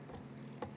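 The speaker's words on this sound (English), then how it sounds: "Look, there's a plane there." An airplane in the video game It Takes Two gives a steady, low propeller drone throughout a short moment, with a brief brighter whoosh near the end.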